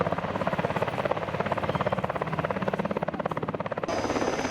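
Bell helicopter built under license by Fuji Heavy Industries, with a steady close rotor chop and turbine whine sustained throughout at the Iruma Air Festival in Japan.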